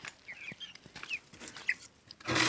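Quail in a new coop give soft, short chirps and clucks, scattered and fairly close, over a quiet background.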